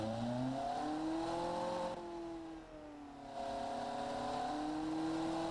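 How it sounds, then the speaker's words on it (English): A simulated classic muscle car V8 engine in the game Automation revs up and holds high, dips briefly, then climbs again in a steady, smooth whine with no talking. "testing to figure out what the engine is going to sound like"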